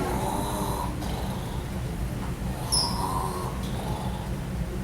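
A storyteller imitates a bear snoring in a retelling of an Iroquois story, producing slow, breathy, rasping snores that are soft and steady under a low background hum.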